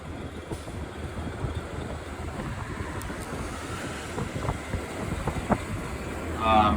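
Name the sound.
wind blowing against the Disney Skyliner gondola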